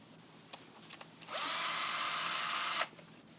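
A power drill spins out bracket screws from a 2017–2019 Nissan Pathfinder dashboard in one steady whirring run of about a second and a half, close and loud, with a few light clicks and taps before and after.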